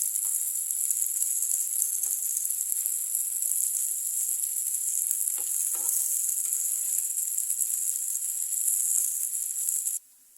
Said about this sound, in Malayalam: എല്ലാ ഭാഗവും ഇതേപോലെ ഒന്ന് ഫ്രൈ ആകാൻ വേണ്ടിയിട്ടാണ് കേട്ടോ